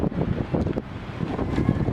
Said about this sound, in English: One thing about today is it's just been epically windy.